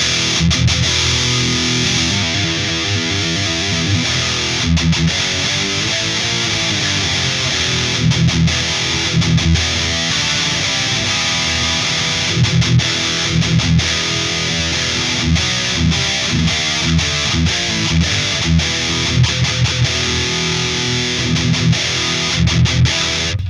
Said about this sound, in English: I think the amplifier lacks a little bit of clarity while on high gain tones